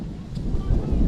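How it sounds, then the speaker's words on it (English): Strong wind buffeting a microphone outdoors at a football game, a loud, low rumbling roar that gusts unevenly through the whole moment. "I don't mean to belabor the point about the wind, but it is windy out here."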